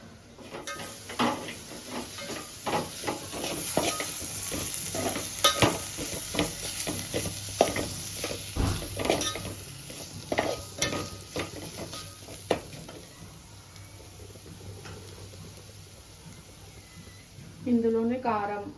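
Ginger garlic paste frying and being stirred in a pan, with repeated scraping and clinking strokes over a soft sizzle, close and moderately loud; a voice briefly sounds near the end.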